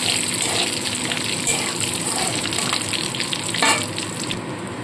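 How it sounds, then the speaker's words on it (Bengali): Chopped onion added to cardamom, cinnamon, cloves, mace and cumin frying in hot oil for cauliflower chicken, giving a loud, dense, continuous sizzle with faint stirring throughout. "এবার দিয়ে দিচ্ছি কুচনো পেঁয়াজ"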